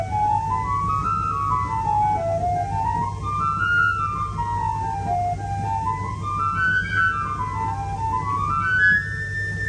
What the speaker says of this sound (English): The final flute stop on the swell is a 4 foot flute.